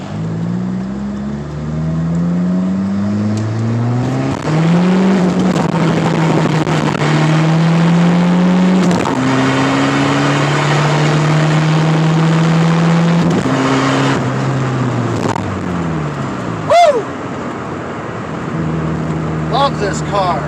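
An old car with a harmonic balancer problem revs repeatedly, its engine note climbing and falling through several loud, close blips, with a brief sharp knock near the end.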